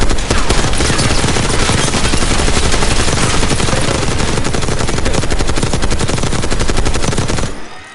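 Sustained automatic machine gun fire in Call of Duty Black Ops 6, loud and dense, rattling almost continuously for about seven and a half seconds before cutting off abruptly, with no talk over it.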